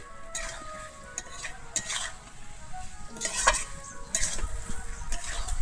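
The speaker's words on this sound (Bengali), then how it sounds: "ভেজে রাখা এঁচোড়ার আলুটা দিয়ে আমি খুব ভালোভাবে এখানে মিশিয়ে নিচ্ছি" Fried jackfruit and potato pieces stirred into a spice masala in a pan, with a steady sizzle under scraping and clinking utensil strokes at irregular intervals, close and moderately loud, no talk.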